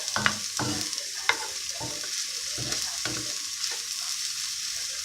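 Onions and curry leaves fry with a steady hiss and sizzle, with a few soft scrapes from stirring, close by and without talk.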